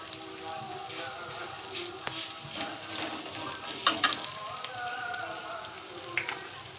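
Onions and ginger paste fry in a pan, a soft continuous sizzle broken by occasional spatula scrapes and clinks, fairly quiet throughout.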